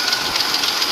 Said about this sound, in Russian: Двигатель вообще холодный, слышно стук гидрокомпенсаторов.